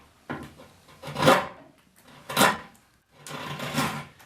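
Hand tool carving the edge of a wooden chair seat, the harder side of the grain: three separate bursts of rasping, scraping cuts, close and fairly loud, with short quiet gaps between strokes.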